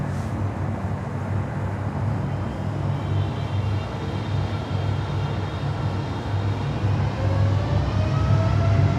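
An Emirates Boeing 777 airliner departs Miami airport as a steady, loud broadband jet roar with a low rumble, while a faint whine slowly rises in pitch.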